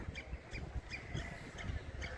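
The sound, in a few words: birds chirping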